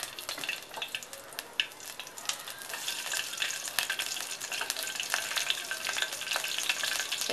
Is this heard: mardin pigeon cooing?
no